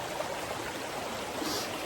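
A river stream in Connecticut running steadily, a continuous close rushing and gurgling of water with no other sounds.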